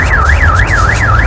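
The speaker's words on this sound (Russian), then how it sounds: "Вот, сигнализация заработала." A car alarm wails loud and close, its electronic tone sweeping up and down in a fast repeating cycle, alone with no talk over it.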